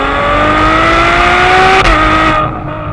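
A Ferrari 812 Superfast engine revs high, climbing steadily in pitch, loud and close, then shifts gear near 8,900 RPM and drops away abruptly.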